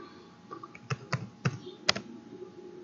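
Keystrokes on a computer keyboard while entering Java code, several separate clicks spaced irregularly, close and fairly quiet, with no talking.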